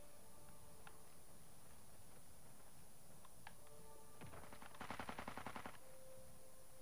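Burst of rapid gunshots from a rifle switched to burst or single fire in Call of Duty: Modern Warfare 2, a quick cluster of sharp cracks near the end over faint game ambience.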